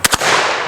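.45 ACP British Enfield revolver shots, two sharp close cracks in quick succession followed by a ringing, decaying echo.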